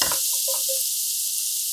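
Coarsely chopped garlic sizzles in about three spoonfuls of olive oil in a pan over medium-low heat. A steady, close frying hiss runs throughout, with faint stirring and no voices.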